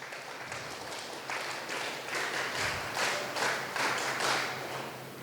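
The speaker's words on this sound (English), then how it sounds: "can we have a round of accolade and applause?" Applause from an audience at a school extempore speech contest finale, a broad wash of many hands clapping that swells midway and holds steady, moderately loud with a low hum underneath.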